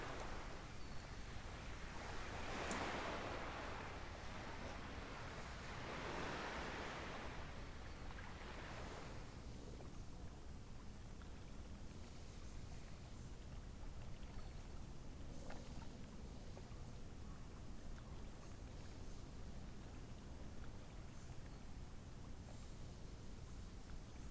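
Water washing through a fjord in Microsoft Flight Simulator 2020 New Zealand scenery near Milford Sound, heard as faint, steady wave and surf wash with soft swells of rushing noise early on, then a low continuous ambient rumble, no voices.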